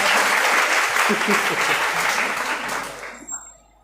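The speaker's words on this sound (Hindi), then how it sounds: "तालियां बजा दीजिए एसडीएम" A seated audience at a school motivational-speech event breaks into loud clapping that gradually tapers and fades out near the end, with a brief spoken word at the close.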